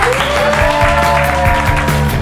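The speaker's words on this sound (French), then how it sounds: "je vous demande de l'applaudir" A crowd applauds to welcome Jenny at a hackathon event, loud and steady for a couple of seconds, with a sustained musical tone running underneath.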